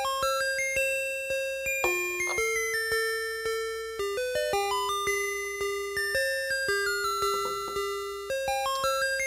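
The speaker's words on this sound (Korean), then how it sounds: "이 종소리는 우리나라뿐만이 아니라 전 세계적으로도 가장 많이 쓰는 종소리라고 합니다" A school bell chime plays Badarzewska's The Maiden's Prayer as a bright, steady electronic melody of clear, evenly paced tones, heard alone and fairly loud throughout.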